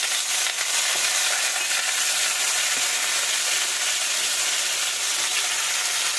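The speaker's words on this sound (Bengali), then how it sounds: "আমি কিন্তু ডেও ডাঁটাগুলো একটু ভেজে নিই" Loud, steady sizzle of deo (monkey jack) stalks frying in hot oil, close and continuous with faint stirring underneath, no voices.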